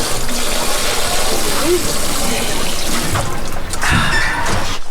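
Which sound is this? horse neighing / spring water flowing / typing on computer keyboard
spring water flowing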